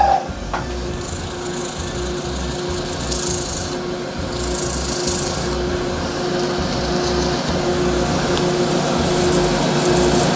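Close, steady scratchy rubbing as sandpaper is worked by hand over a cast resin shaving brush handle, continuous back-and-forth strokes with slight changes in rhythm.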